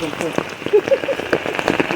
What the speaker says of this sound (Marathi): त्यात झालाय पाऊस सुरू